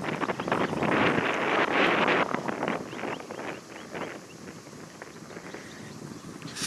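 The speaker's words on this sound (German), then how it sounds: "Oh, es ist gerade super windig." Strong wind buffets the microphone on the Danish North Sea coast near a canal, roaring loudest in the first seconds and then easing into a steady, gusty rush with no voices.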